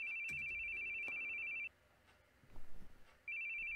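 Electronic phone ring in The Boogie Man video game, a steady warbling trill that sounds for over a second and a half, stops, then starts again, over a quiet background with a faint low thump.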